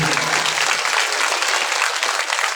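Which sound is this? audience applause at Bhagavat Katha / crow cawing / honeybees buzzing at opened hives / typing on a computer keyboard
audience applause at Bhagavat Katha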